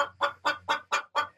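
A laying hen clucks after laying an egg, six evenly spaced, loud, close clucks in a steady rhythm over a faint low hum, with no talking.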